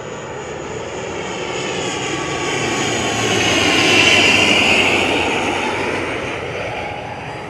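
A Binter airliner arriving from Tenerife at Lanzarote airport roars steadily as it passes, its engine noise swelling to a peak near the middle and then easing away, with no voices over it.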